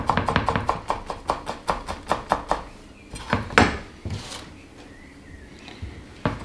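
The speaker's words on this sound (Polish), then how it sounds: "Kroimy bardzo ładnie, dość drobno to oregano i wrzucamy do moździerza." Knife on a cutting board finely chopping fresh oregano and tarragon herbs: a fast, even run of sharp close taps, then slower scattered cuts and softer scraping with a few pauses.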